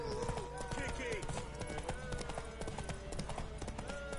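Hoofbeats of a horse in the video game The Witcher 3, steady and close with regular clip-clop rhythm, accompanied by a voice talking throughout.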